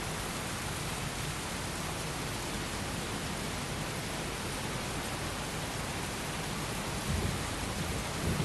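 Steady heavy rain pours without pause throughout a scene in the video game Heavy Rain, a dense broadband hiss with a low rumble beneath, swelling slightly near the end, with no talk over it.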